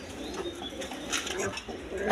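Chuachandan pigeons, a pair of snake-eyed birds, coo softly in a loft amid faint background chatter and rustling, with a brief louder burst near the end.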